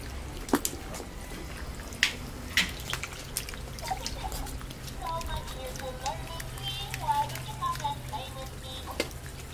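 Puppies splash and patter in puddles from a garden hose after their pen is cleaned, with scattered drips, sloshes and sharp paw slaps close by while a person talks over the scene.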